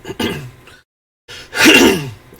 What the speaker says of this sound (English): I'll clear my throat eventually